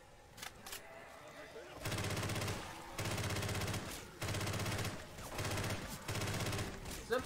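Bursts of automatic gunfire in Left 4 Dead 2, several sustained volleys of a second or so separated by short gaps, with faint voices underneath.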